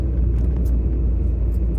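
A car drives along a road in Baguio City, giving a steady low rumble of engine and road noise heard from inside at moderate volume, with no talking.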